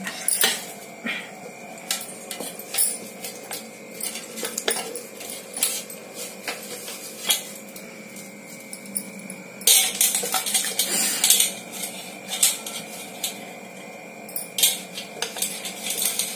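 Dry homemade curry leaf powder being tipped and scraped into a dry metal vessel, giving a steady run of light metallic clinks, taps and scrapes close by, with a brighter burst of clatter partway through.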